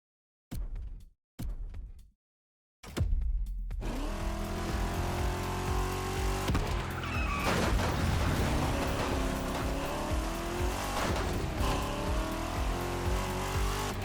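A car engine with a carburetor in the racing game The Crew Motorfest, revving loudly and continuously after a few short bursts, with rising and falling pitch as it accelerates and shifts.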